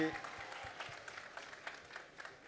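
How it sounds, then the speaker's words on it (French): Audience applause greets rally driver Sébastien Loeb at a Dacia talk event, a fairly soft, steady patter of many hands with a voice partly over it. "on l'applaudit très fort s'il vous plaît"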